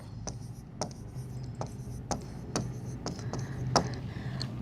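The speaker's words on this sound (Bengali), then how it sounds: "এটা আমি লিখছি" Pen writing by hand on paper, a soft continuous scratchy stroke with sharp little taps between words, close and quiet, no voice over it.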